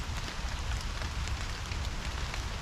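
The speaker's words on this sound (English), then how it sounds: "just sitting enjoying the rain" Rain falls in Sherwood Forest, a dense steady hiss of drops on leaves and ground, with close irregular patters over a low rumble, continuous and fairly loud with no talk.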